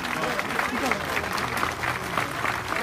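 An audience at a park opening ceremony applauds steadily, with dense continuous clapping throughout and voices mixed in.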